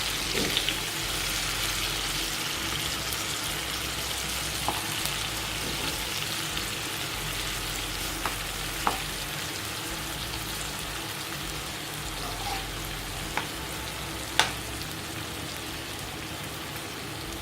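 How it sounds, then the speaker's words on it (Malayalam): Chicken pieces frying in a pan after being flipped, a loud, dense, continuous crackle and hiss like heavy rain, broken by occasional sharp pops, with no voices. "ഇനി നമ്മളുടെ ചിക്കൻ ഒന്ന് മറിച്ചിട്ട് കൊടുക്കാം"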